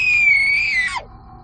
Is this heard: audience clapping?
no